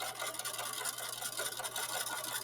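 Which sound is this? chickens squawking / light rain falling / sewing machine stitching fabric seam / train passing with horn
sewing machine stitching fabric seam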